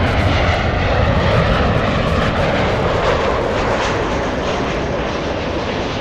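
Southwest Airlines jet in Triple Crown special livery taking off at LAX, a loud, steady engine roar filling the whole span with broadband rumble, close and continuous with no talk.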